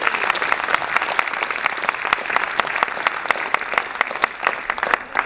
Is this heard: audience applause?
yes